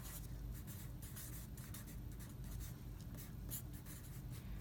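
Marker or pen writing out colour names on a surface, a steady scratchy stroking that runs continuously with short bursts of pen strokes, close and fairly clear over a low background hum, no talking.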